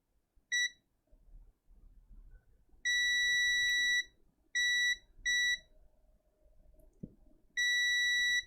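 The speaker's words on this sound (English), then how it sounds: "I'm just going to do some continuity checks" A multimeter runs continuity checks on the charger port of a Plantronics Calisto P620S headset, giving five clear, loud electronic beeps: one brief chirp, then longer sustained tones of uneven length separated by quiet gaps.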